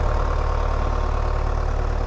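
A 5510 tractor nicknamed Little Johnny idles at a steady, low, throbbing rumble. The engine is close by and unchanging, with no voices over it.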